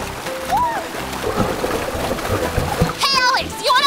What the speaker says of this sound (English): We have feet, so we want to kick, and we want to make big splashes